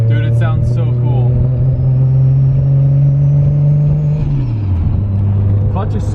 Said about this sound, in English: It's like the perfect exhaust note.